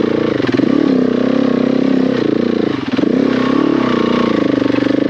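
A heavily loaded KTM 690 motorcycle labours up rough singletrack, its single-cylinder engine thumping loud and close with a rhythmic chug that dips and rises as the clutch is worked.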